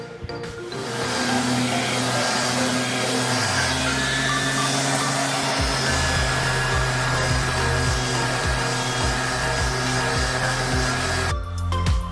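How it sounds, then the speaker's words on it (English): A big wood board being sanded flat in a home workshop, a loud, steady, whirring power-sander drone that runs almost unbroken for the whole stretch before easing off at the end, with no talking. "we've got the big board sanded down on both sides, so it's mostly flat"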